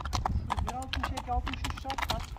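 A bay horse being led walks with close, crisp clip-clop hoofbeats in quick succession while someone talks over the steps.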